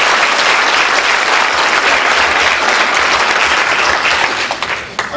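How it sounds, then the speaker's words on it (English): Sustained applause from a graduation audience for the college president at a 1994 respiratory care program ceremony, dense steady clapping from a large crowd that holds loud throughout and thins slightly at the end. "Give her a round of applause"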